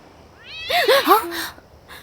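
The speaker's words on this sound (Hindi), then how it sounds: "बिल्ली थी।" A cat gives a quick series of two or three short meows close by, fairly loud against a quiet background.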